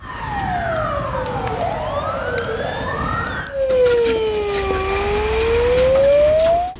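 A volunteer fire brigade vehicle's siren wails during a planned fire drill in a Sochi national park, its loud tone sweeping down and back up in long cycles, close by with traffic noise underneath.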